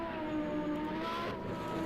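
A manual race car engine lugging in too high a gear at a Group C grand prix event, a steady droning tone with a strained, labouring buzz, close and loud.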